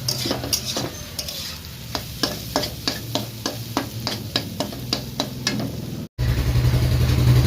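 Chhana bhujiya fries in a pan, a sizzle punctuated by a regular series of sharp spatula scrapes and stirs, then a brief cut into a louder, steadier sizzle at the end.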